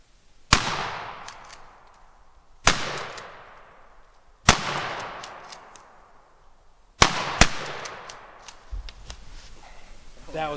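Shotgun blasts ring out during an outdoor turkey hunt: five loud, sharp reports at irregular spacing, each leaving a long rolling echo that fades before the next, with a short pair fired close together near the end.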